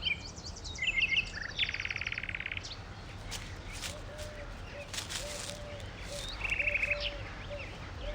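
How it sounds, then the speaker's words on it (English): Nightingale song in an English countryside garden: several short bursts of rapid trilled and chirping phrases separated by pauses, moderately near over faint outdoor ambience and insect hum. "That's a nightingale."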